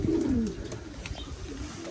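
A racing pigeon at its home loft gives a loud, close cooing call at the start, followed by softer rustling and faint calls, with no talk.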